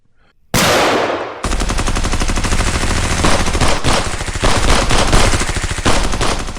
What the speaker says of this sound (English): he saw them raising their rifles, aiming at the honeycombs. Ready, aim, and shoot.